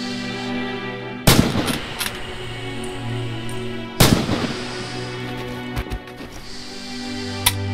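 Gunfire from the video game Red Orchestra 2 Heroes of Stalingrad: two loud, sharp rifle or artillery blasts several seconds apart, each followed by ringing echoes and scattered smaller shots over a steady low battlefield hum.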